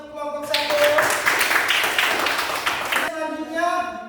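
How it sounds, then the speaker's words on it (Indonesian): An audience applauds a student group at a class presentation, a burst of clapping lasting a few seconds between stretches of a voice speaking. "tepuk tangan untuk kelompok 1"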